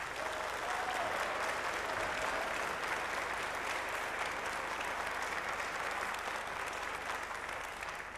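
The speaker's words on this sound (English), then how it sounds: "So let's give them all a really big cheer." An audience at the Scottish Labour Party conference applauds and cheers loudly and steadily, a dense wall of clapping that carries on throughout and tapers only slightly at the end.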